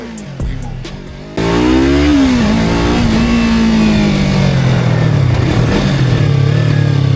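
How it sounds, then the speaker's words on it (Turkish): A Yamaha R25 motorcycle engine revs hard up close, climbing and falling in pitch with throaty roars and crackling exhaust pops; music plays faintly at first. "Egzoz çok güzel patlatıyor ya."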